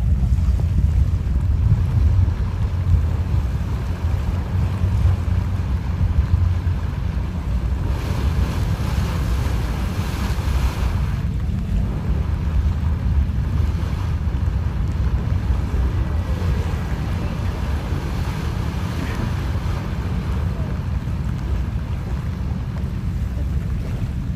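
Steady wind buffeting and broad rushing sea waves along Dolomite Beach in the afternoon, a continuous loud wash with low rumble throughout, no voices.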